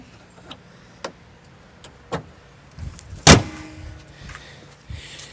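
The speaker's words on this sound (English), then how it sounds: "Drop the hood." The hood of a 2013 Dodge Grand Caravan dropped shut in a driveway after brake work, one loud metallic slam standing out after several lighter clicks and knocks, close by.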